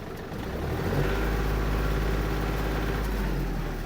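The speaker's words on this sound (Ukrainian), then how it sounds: "я навіть додам обертів" A Yanmar AF-250 Japanese mini tractor engine with its driveshaft and blades running, revving up to a steady, loud mid-pitched drone with a low rumble, close by and with no voices.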